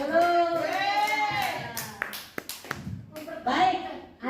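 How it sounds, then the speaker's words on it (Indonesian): A few sharp hand claps from a class group break through in a brief burst, surrounded by lively voices talking and calling out before and after. "Ya, tepuk tangan dulu."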